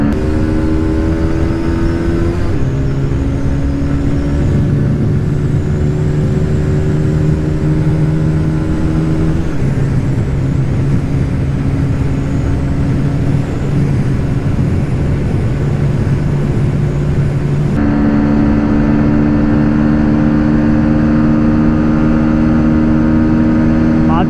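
A Bajaj Pulsar NS 160 and a TVS Apache 160 2V BS6 motorcycle in a drag race give a loud, sustained engine whine that climbs in pitch through each gear, drops at every upshift and holds near top speed.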